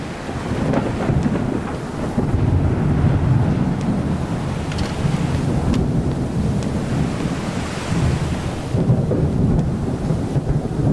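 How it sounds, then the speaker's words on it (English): Thunderstorm at sea heard from a sailing boat, with continuous heavy rumbling, rain and wind roar filling the whole stretch at a steady loud level, occasional sharper cracks standing out. "I think the storm is coming to an end."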